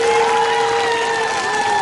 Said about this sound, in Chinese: 所以我们给他一个掌声好吗？